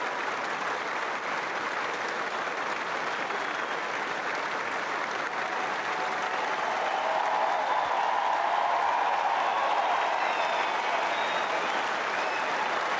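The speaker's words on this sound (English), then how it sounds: "Serena standing to applaud her as well." A Wimbledon tennis crowd applauds steadily for the whole stretch, a dense, sustained wash of clapping that swells slightly partway through.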